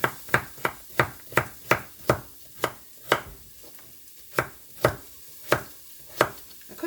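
Vegetables for a split pea soup are roughly diced with a knife: a rapid, fairly even series of sharp chops on a board, up close, with a brief pause midway.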